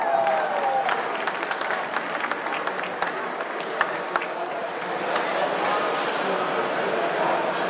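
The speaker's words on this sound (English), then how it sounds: "Round of applause." A crowd at a business show in an exhibition hall breaks into sustained applause, dense and steady for several seconds, with voices and a shout mixed in.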